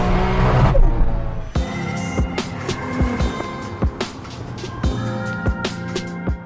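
A 1000 horsepower Toyota Supra A80 accelerating hard, its engine roaring loudly while repeated sharp thumps and bumps punctuate the run.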